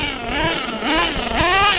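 Redcat Nitro Earthquake 3.5 RC truck's small nitro engine buzzing loudly and close, its pitch wavering and dipping as it bogs under throttle during slow passes.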